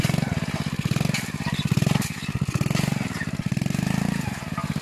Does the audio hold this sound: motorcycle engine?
yes